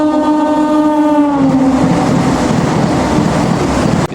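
A Vande Bharat express train sounds its horn, a loud sustained tone that slides slightly down in pitch and fades out, while the train runs on with a steady heavy rolling roar.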